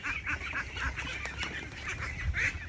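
A large flock of ducks on a mixed farm, with overlapping quacks and honking calls coming continuously from a moderate distance under a steady outdoor background.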